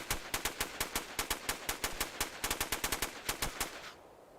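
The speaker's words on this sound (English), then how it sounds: "I heard the shot from in game" Rapid gunfire in the video game SOCOM II, a fast regular string of loud shots lasting about four seconds before cutting off, with no talking.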